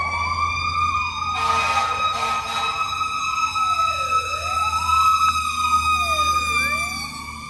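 Fire truck siren wailing in long rising and falling sweeps, loud and close over a rumbling engine, held steadily throughout without any talking.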